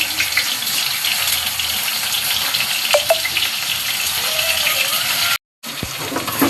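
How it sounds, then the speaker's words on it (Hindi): Bitter gourd pieces fry in hot refined oil, a loud, continuous close sizzle with a brief cut near the end. "तो रिफाइंड गर्म हो चुका है, फिर मैं करेले डाल देती हूँ।"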